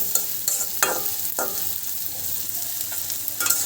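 Onions frying in a pan for a pangas fish curry, with a loud bright hiss of oil broken by several sharp spatula scrapes and knocks against the pan, close and unvoiced.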